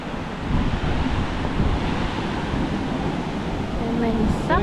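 Ocean waves at Sabang Beach in Baler, Aurora, a steady surf roar heavily mixed with wind buffeting the microphone, with faint voices in the background.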